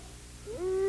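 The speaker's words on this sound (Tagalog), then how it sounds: "yun ang tunog ng kwago." A brief, faint owl hoot from an animated cartoon: a single sustained tone rising slightly, heard alone near the end.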